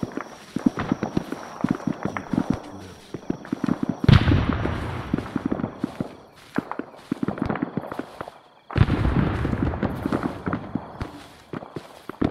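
Rapid crackling gunfire from a night battle in a video game, bursts of sharp shots at mid distance, continuous with brief pauses and overlapping volleys.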